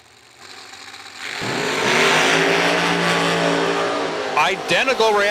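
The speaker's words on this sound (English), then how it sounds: "You hear Burnsy in and out of the throttle to go dead 8." Drag racing car engine at full race revs, loud and sustained, with the driver stabbing in and out of the throttle late on so the roar breaks into sharp revving bursts; an announcer talks over it.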